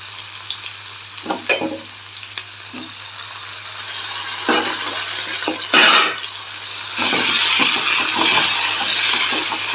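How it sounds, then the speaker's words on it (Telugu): Pesarattu batter mixed with finely chopped curry leaves, stirred by hand in a bowl, giving scattered wet, squelching stirs and scrapes that grow into a steadier, denser churning toward the end, with no talking. "బాగా కలుపుకున్నాం ఇది కలిసేలాగా"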